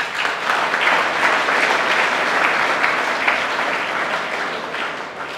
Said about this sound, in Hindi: एक बार ताली बजा दो इसके लिए।